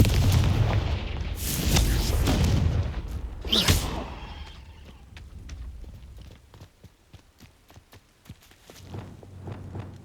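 A Confringo fire-blast spell explodes in the video game Hogwarts Legacy, loud booming blasts early on that fade into a quieter stretch of light footsteps and small clicks.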